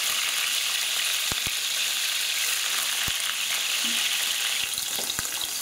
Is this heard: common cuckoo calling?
no